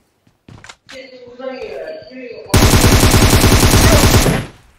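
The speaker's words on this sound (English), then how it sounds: "A shotgun" Gunfire in PUBG Mobile, a sustained rapid burst of close, loud shots lasting about two seconds, coming after a stretch of game sounds and voices and then cutting off abruptly.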